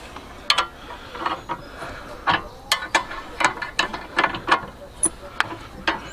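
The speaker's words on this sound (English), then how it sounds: "And then use the spanner that comes with it." Ratcheting clicks from a spanner tightening a Bulldog Titan wheel clamp on a caravan or car wheel, a steady series of sharp metallic ticks in bursts over a few turns, close and clear.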